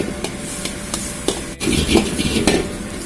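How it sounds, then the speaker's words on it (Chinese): Chives and eggs are stir-fried in a pan over low heat: rhythmic spatula scrapes and clinks against the pan over a soft, low sizzle, close by and without speech. "如果喜欢吃嫩点的，就火小点，慢慢的把它炒定型就稍微翻炒"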